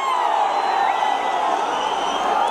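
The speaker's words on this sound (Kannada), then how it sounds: "ಜೋರಾದ ಚಪ್ಪಾಳೆ ಪ್ಲೀಸ್" Steady roar of a large fan crowd cheering and clapping at actor Kichcha Sudeep's 50th birthday celebration, a dense continuous wash of voices and applause with no pauses.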